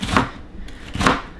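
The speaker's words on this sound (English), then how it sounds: "And now I'm gonna start chopping. Sharp knife, really important." Two crisp knife chops on a board as a sharp knife cuts through a whole head of celery, close and loud, spaced about a second apart with nothing else around them.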